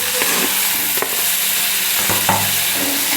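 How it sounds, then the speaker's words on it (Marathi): Onion and tomato fry in a pan while being stirred, a steady loud sizzle broken by several scraping strokes of the spoon; no talking. "चांगलं फ्राय करायचं आहे टॅमॅटो"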